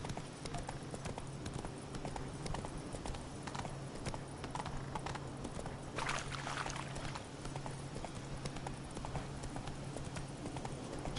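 Geralt's horse Roach in The Witcher 3, hooves clip-clopping in a steady trotting rhythm with a low hum underneath and a brief snort midway, close and continuous.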